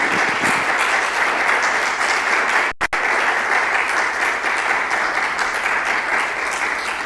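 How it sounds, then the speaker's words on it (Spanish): A conference audience applauds a speaker after a talk on international trade and poverty: dense, steady clapping that fills the room, with a brief dropout midway. "Fuerte los aplausos para Juanjo Molinas."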